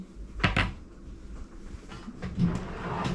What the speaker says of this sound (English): I'm opening my big drawer of things.